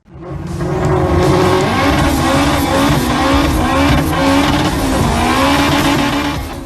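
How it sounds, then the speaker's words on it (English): An 1100hp all-wheel drive Honda Civic EK races at Roll Racing Sydney, its engine roaring loud and close with rising, wavering revs and tire squeal over a continuous blast. "the quickest all-wheel drive Honda Civic in all of Australia, ripping it up at Roll Racing Sydney"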